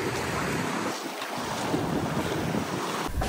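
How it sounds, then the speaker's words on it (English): Ocean waves on Negril's Seven Mile Beach in Jamaica wash in as a constant loud rush, heavily mixed with wind buffeting the microphone. "All right, yeah, waves."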